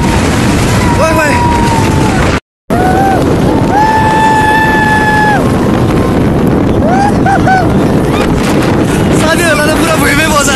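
A powerful mountain gust in Marpha, Mustang, buffets the microphone with heavy, booming rumbles, while excited voices call out over it.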